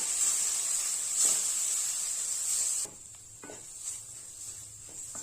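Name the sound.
sautéing chili powder and garam masala in a pan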